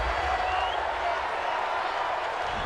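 A stadium crowd at an NFL game between the San Francisco 49ers and Arizona Cardinals gives a steady, dense roar of displeasure at a penalty call, a sustained wash of booing and murmuring from a large audience with no single voice standing out.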